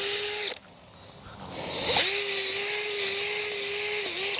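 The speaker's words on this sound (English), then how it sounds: "slow it down a little bit, and drill a hole" A power drill whirs loudly in two bursts with a steady high motor whine, drilling holes in garden soil, a short pause of rustling between them, then stops abruptly.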